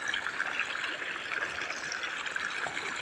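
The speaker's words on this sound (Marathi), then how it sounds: "तिकडे पाणी पडतंय पाणी चालू आहे" Irrigation water from a pipe flows into a farm field, making a soft, steady trickling and splashing that continues without a break, heard alone at low volume.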